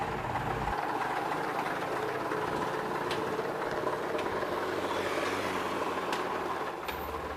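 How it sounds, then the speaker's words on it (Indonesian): Sugar cane lori locomotive on a trial run of the Semboro mill line toward Sukoreno, a steady engine rumble and mechanical clatter as it begins to move, continuous with faint squeaks. "lokomotif mulai bergerak"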